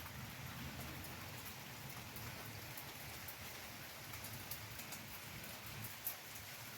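Steady rainfall patters all around, a dense continuous hiss with occasional heavier drops.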